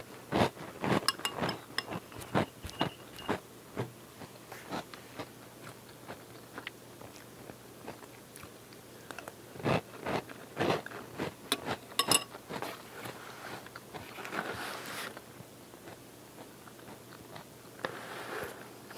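Honey Kix cereal in milk is bitten and chewed close to the ear, giving a steady run of crisp crunches with faint clinks, while no one talks.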